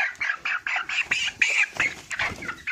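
Many broiler chicks cheep continuously nearby on a poultry farm, a dense flock of high peeping calls overlapping in quick, rhythmic bursts.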